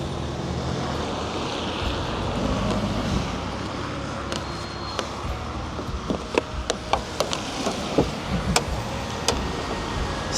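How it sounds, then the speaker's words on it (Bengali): A car started in snow, running with a steady, muffled rumble of uneven tone, joined later by scattered sharp clicks and knocks nearby; no one speaks. "গাড়িটা আগে একটু স্টার্ট দিয়ে নেই"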